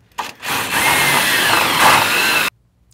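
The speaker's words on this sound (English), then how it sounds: "next we're gonna secure our bracket to the body cross member with our 3/8 self-tapping screw" Power drill driving a 3/8 self-tapping screw through a bracket into the body cross member of a Ford E-350 van, one loud, steady grinding whir of about two seconds that cuts off abruptly, close up.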